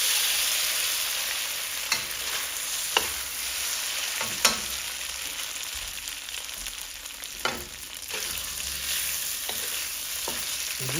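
Marinated shrimp fry in a pan with a steady bright sizzle throughout, broken by occasional scrapes and taps of a utensil moving them around.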